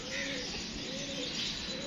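Soft, continuous pigeon cooing from several birds, with chirps layered over a steady background hiss.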